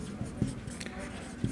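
Pen scratching on paper while working a maths exam problem about the area of a square, a few quick, faint strokes close by in a quiet room.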